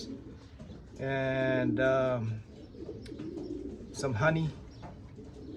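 Racing pigeons newly arrived from Belgium give a few deep, throaty coos close by, the longer calls up front and another later, while someone talks over them.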